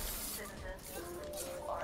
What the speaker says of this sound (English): I'm spraying my face